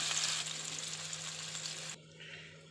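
Onion fries in very hot oil in a wok, a steady hissing sizzle close by that drops to a fainter crackle near the end, with no voices.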